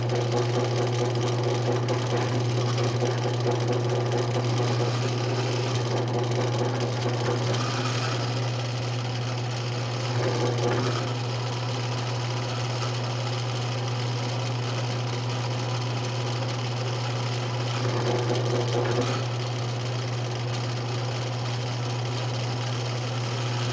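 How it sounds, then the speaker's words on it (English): A steady mechanical hum of a drill press cutting steel pipe, with a grinding, whirring drone. It runs continuously with faint rattles and occasional surges, and no voices. "I'm going to go ahead and open the mouth up on the drill press"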